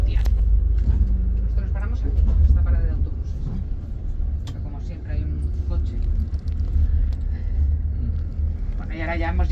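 A tour bus drives through Verona, Italy, giving a steady, loud low engine rumble and road noise throughout, with voices talking over it.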